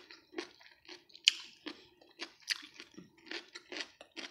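Close, crunchy chewing of tenga ng daga, a wood ear mushroom pickled like atsara, with a steady run of crisp bites and wet crunches roughly every half second, quiet and with no talking.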